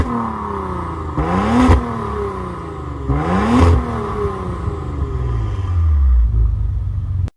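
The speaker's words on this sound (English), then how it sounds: "we gotta make this engine and exhaust scream." A 2024 Maserati Levante with a twin-turbo 3-liter V6 revs twice in sharp, rising bursts, each falling back to a rumbling idle, followed by a deeper surge of engine and exhaust before cutting off abruptly.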